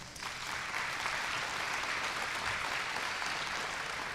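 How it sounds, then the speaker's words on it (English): Steady, even applause fills a room at the 2021 Muscogee (Creek) Nation Scholarship Pageant, a dense wash of clapping at moderate volume from start to finish with no talk. "Give them a round of applause."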